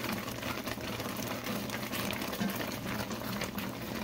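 Pot of calamondin orange marmalade cooking without pectin at a steady boil, a continuous close bubbling and low gurgle with no voices.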